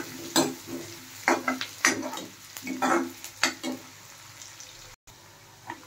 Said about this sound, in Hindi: बारीक कटे हुए प्याज, हम इसे ब्राउन होने तक अच्छे से भूनेंगे।